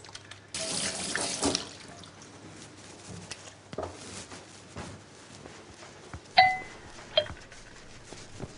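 Tap water runs into a kitchen sink while hands are washed under it, a steady mid-level splash with a couple of sharper clinks toward the end.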